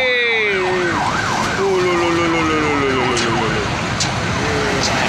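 An ambulance siren wails, cycling rapidly up and down, with a second lower tone sweeping beneath it, loud and continuous against steady traffic noise.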